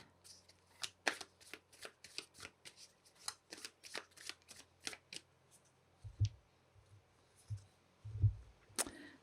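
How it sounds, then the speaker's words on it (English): Animal spirit oracle cards being shuffled in a steady run of crisp riffling snaps, near and fairly quiet, followed by a few soft low thumps as the deck is handled, with no talking. "Let's pull some cards from the universe using the animal spirit cards."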